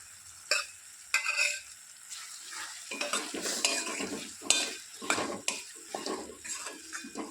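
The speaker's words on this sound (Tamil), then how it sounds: "அடுத்து வெண்டைக்காயை எடுத்து அதையும் அதில் ஒன்றா போட்டு கிண்டணும்." Okra being stirred in a pan for tamarind curry: a spoon scrapes and clinks against the pan in uneven strokes over a soft sizzle, close and fairly quiet, with no talking.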